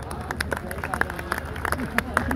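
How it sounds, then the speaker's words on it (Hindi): Applause from an audience at a kavi sammelan poetry gathering at the Lakhimpur Kheri mela, a steady mass of dense clapping mixed with crowd babble, loud and continuous throughout. "तो एक बार ताली आप जोरदार बजा दो"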